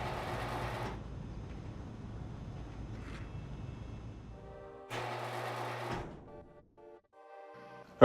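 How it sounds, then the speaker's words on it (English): A car engine in GTA V drones steadily for about a second, dips to a low rumble, then revs up again briefly before fading, with no talking. "Oh, that engine, that sound is music to my ears."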